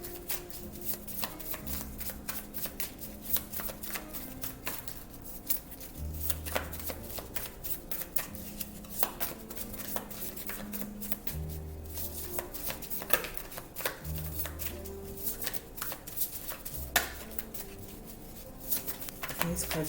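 Tarot cards shuffled by hand in a repeated, steady riffling and sliding rhythm, close and fairly quiet, with faint low background tones under it.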